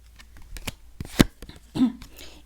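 Tarot cards are shuffled and drawn close by, a few soft papery riffles and snaps with a sharper slap in the middle, otherwise quiet.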